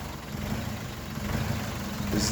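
A Dongfeng DF404G2 tractor engine runs at a steady, low, even rumble close by, with no voices over it.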